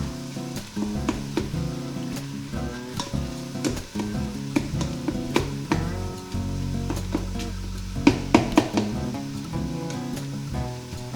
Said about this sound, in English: we're just gonna let it saute for maybe 2 minutes, 3 minutes at the most